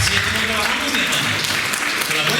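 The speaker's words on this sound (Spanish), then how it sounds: "Un aplauso al Señor" Congregation applauding at a church service event in Brussels, a continuous wash of clapping mixed with voices and cheering throughout, fairly loud and steady.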